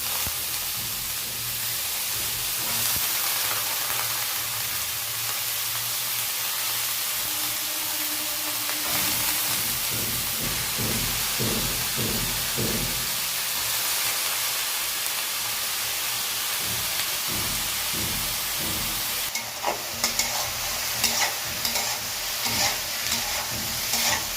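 Potatoes and eggplant sizzle together in a frying pan, a continuous hissing fry with bursts of stirring and scraping midway and a louder crackle near the end, close and steady throughout.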